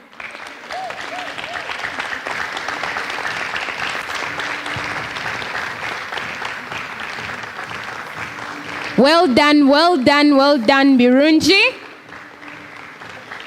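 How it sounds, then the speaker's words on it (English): A conference audience at a literacy event applauds steadily, with the clapping sustained throughout. Someone speaks over the applause near the end. "Let's keep cheering her until she comes forward"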